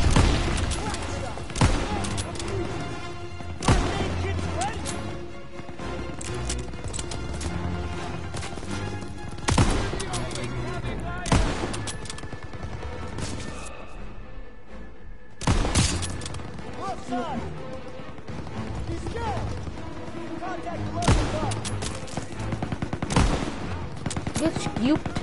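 Heavy gunfire from a World War II Call of Duty battle targets an MG42 machine-gun nest, with loud rapid bursts and sharp single shots repeating across the scene while voices talk over the fighting.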